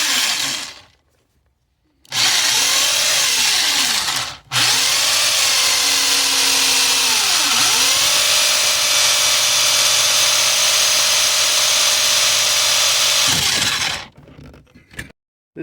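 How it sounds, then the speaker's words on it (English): A power drill bores out four rivets during a stereo install in a C5 Corvette, running loud and steady in two long bursts with sweeping pitch dips as the bit catches, separated by short pauses, with no talking. "So we're going to drill out these 4 rivets."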